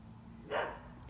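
A single short dog bark sounds at close range, quiet over a steady room hum, with no talk in the clip.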